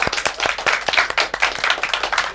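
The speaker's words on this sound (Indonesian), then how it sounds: "Tepuk tangan untuk Ibu Plus ya." Brief clapping from a small group in a talk-show setting, close and loud, with distinct rhythmic hand claps coming in quick bursts.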